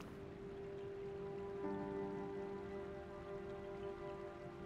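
Steady rain falls in Zelda: Tears of the Kingdom, a soft continuous wash of droplets under a sustained tonal game drone that stays at an even level throughout.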